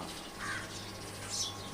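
Two short crow caws sound at a moderate distance, one early and one near the end, over a steady outdoor background hum.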